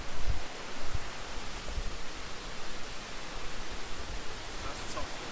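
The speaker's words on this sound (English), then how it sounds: "That's the top of the waterfall." A waterfall at an old water-powered mill produces a steady broadband rush, a continuous even roar with a few faint low thumps.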